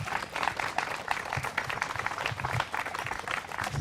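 Audience applause at a Juneteenth talk at the John Brown Tannery in Meadville, a dense, steady patter of many hands clapping together for several seconds, moderately loud with no voices on top.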